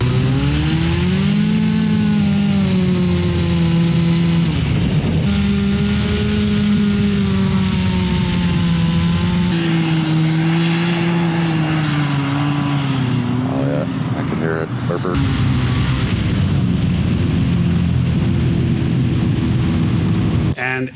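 Small ultralight airbike engine running steadily in flight after its carburetor jet was drilled out to run rich, a loud continuous droning hum with harmonics that shift slightly in pitch, wind noise mixed in, no talking.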